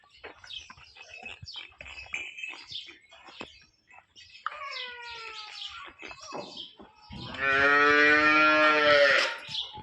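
A cow lets out a long, loud moo near the end, following scattered bird chirps and background farm noises.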